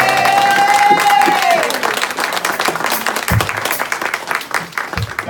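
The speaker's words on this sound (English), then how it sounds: "give Jamaica, all of us this morning, a hearty round of applause" A church congregation gives a hearty round of applause at a Jamaica Independence service, with dense sustained clapping and cheering. A tone rings out at the start, then the clapping continues evenly to the end.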